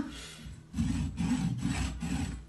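Thin hand saw cutting into a coconut, giving rough, raspy back-and-forth strokes. Four or five steady, close rasps follow a short pause, and no voices are heard.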